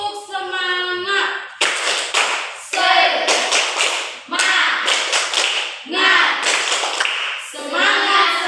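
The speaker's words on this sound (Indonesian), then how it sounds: "mari kita tepuk semangat satu kali ya" A school class claps out a rhythmic spirit cheer, sharp bursts of hand claps in a repeating pattern, with children's voices chanting between and over the clapping in a classroom.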